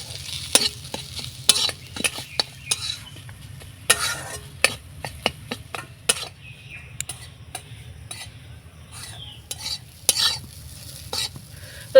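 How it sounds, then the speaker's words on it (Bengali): A spiced filling made with atta and chana dal, seasoned with turmeric, chili, cumin and coriander, is stirred in a pan as it fries. A soft, steady sizzle runs underneath repeated sharp scrapes and clinks of the spoon against the pan. "একটু নাড়াচাড়া করে ভাজা ভাজা করে নিতে হবে, আর খুব ভালো করে কষিয়ে নিতে হবে।"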